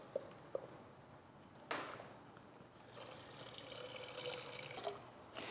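Water is poured from a tap into a pan of rice that was stirred with olive oil and garlic, a steady splashing pour that builds in the second half after a few soft knocks.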